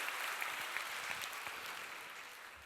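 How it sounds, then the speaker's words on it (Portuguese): Applause from a church congregation during a Portuguese-language service, a short steady patter of clapping hands throughout, moderately loud with no talk over it. "Quem pode dar um aplauso?"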